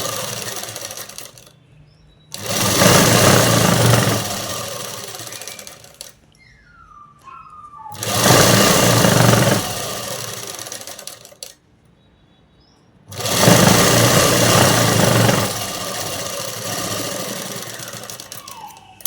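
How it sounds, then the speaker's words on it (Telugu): A sewing machine stitches a dress, running in three loud, steady buzzing bursts of several seconds each, separated by quiet pauses with faint handling noises. "ఇక్కడ వీడియోలో చూపిస్తున్న విధంగా అనేది కుట్టుకుంటే సరిపోతుందండి."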